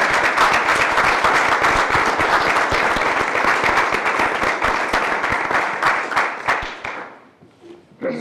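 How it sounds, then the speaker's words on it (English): Loud, sustained applause from a crowd at a meeting, steady clapping that carries on for several seconds before tapering off near the end. "please give Judy a round of applause for her years of service."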